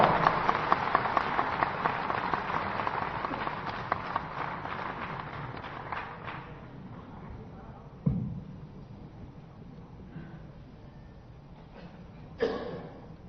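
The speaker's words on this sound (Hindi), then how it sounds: "जोरदार ताली बजा के हमारे प्रदेश के मुखिया पर अभिवादन कराओ, स्वागत कराओ" A crowd claps and cheers to welcome the chief minister at a public gathering in Chhattisgarh, loud sustained applause that fades after several seconds, leaving a few scattered claps and murmurs.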